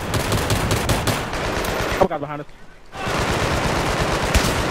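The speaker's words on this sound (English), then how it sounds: "I can't hear anything because everybody's shooting right now." Many players fire rapid, overlapping bursts of gunfire in a Battlefield 3 Rush match on Gulf of Oman, loud and dense. It breaks for a moment in the middle, then resumes, with a player talking through it.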